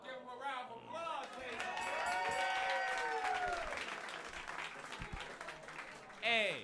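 Audience applause at a live comedy roast battle, a sustained wash of clapping rising to a peak mid-stretch with cheers and voices mixed in, then tapering while people talk over it.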